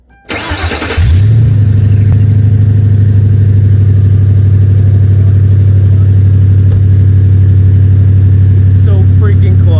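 A Ford Crown Victoria with a newly fitted exhaust cranks and fires up, then settles into a steady, loud, close idle with a deep continuous rumble that holds for several seconds.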